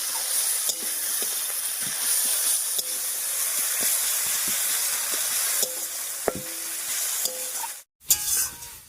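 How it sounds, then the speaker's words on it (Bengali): A spicy dried fish (shutki) mixture is stirred in a pan with a steady sizzle, the spoon scraping in a few sharp knocks. A brief pause near the end breaks the sound before the frying resumes. "এবার সব কিছু খুব করে মিশিয়ে নেব শুকনো মাছের সঙ্গে"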